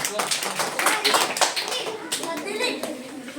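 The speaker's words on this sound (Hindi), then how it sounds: "जोरदार तालियां बच्चे के लिए।" Schoolchildren in a classroom clap together for a classmate, a dense burst of brisk hand claps with children's voices and chatter mixed underneath throughout.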